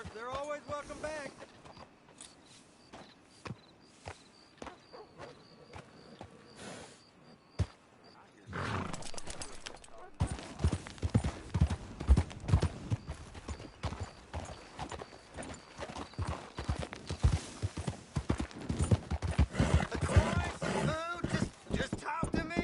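Horse hooves in Horizon Zero Dawn, rhythmic clip-clop under game music and roaring creature sounds, growing louder and busier partway through, with speech in between.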